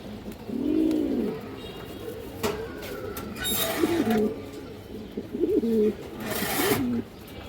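Silver bagha pigeons of an old bloodline cooing at close range, several rolling coos in a row over a low background rumble, with a few sharp bright noises mixed in.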